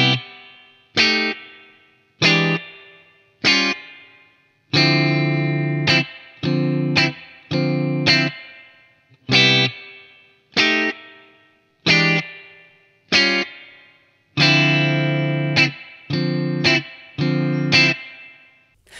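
Slow electric guitar soul chords are struck one at a time with a distorted, chorus-laden tone, each ringing briefly before a short pause, in an unhurried, deliberate rhythm.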